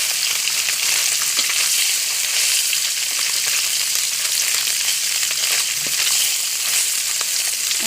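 Small puti fish frying in oil in a pan, a steady dense sizzle filling the whole stretch with faint stirring clinks, close and continuous with no talking.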